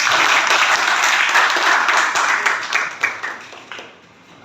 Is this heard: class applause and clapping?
yes